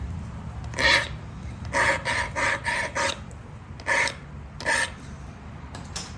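Abrasive rasping strokes on the edge of a Flint River chert Hillsborough point during flintknapping, a set of short scraping bursts in irregular rhythm, close and moderately loud with quiet pauses between.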